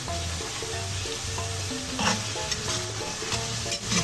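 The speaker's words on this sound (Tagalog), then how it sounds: "Igisa lang muna natin." Vegetables for sopas soup, including carrot, sizzle in a hot pan while being stirred, giving a steady frying hiss with scraping and clinking from the utensil, close up, with no talking.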